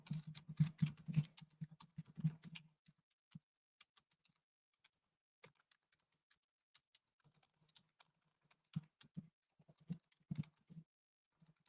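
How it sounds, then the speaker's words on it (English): Computer keyboard keys clack in quick bursts of typing at the start, fall quiet for several seconds, then resume in a short flurry near the end, close and dry. "My least favorite thing is the clack of the keyboards."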